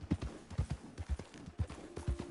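Horse hooves clip-clopping at a steady walking rhythm in Red Dead Redemption 2 Online, soft and fairly close, with no other sound.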